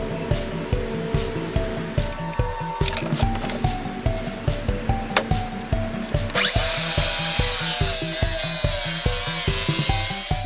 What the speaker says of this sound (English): I use the Craig AccuCut circular saw track guide system to make my cuts.